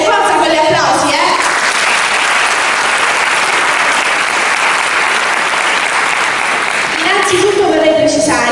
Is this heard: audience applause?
yes